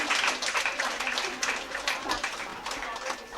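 Audience applauding at a women's day felicitation and prize distribution program, steady broadband clapping sustained throughout at moderate loudness with a dense crowd texture.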